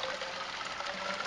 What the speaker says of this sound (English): then you can pour the water slowly into the tube